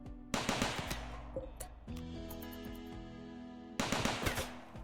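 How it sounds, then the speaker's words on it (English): Automated turrets in RimWorld fire at an enemy in sustained, rapid bursts, loud and close, with a pause and lighter clatter in the middle before heavy firing resumes. "Get murked by some turrets."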